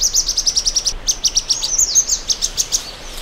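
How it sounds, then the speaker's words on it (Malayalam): Thick-billed flowerpecker giving a rapid series of sharp, high chik calls, repeated steadily and loudly at close range with no other sounds. "പക്ഷി ചിക് ചിക് ചിക് എന്നോ മറ്റോ വളരെ ഉച്ചത്തിൽ ചിറ്റ് ചിറ്റ് എന്നോ മറ്റോ ആണ്"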